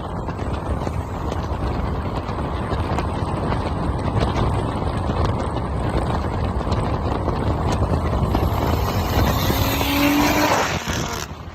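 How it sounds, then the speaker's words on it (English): A BMW 340i with a Turner Motorsport exhaust and a Speedtech top-mount turbo kit roars steadily and loud for several seconds, a continuous rasping exhaust drone that rises slightly before cutting off at the end. "our Turner Motorsport exhaust, which honestly sounds great"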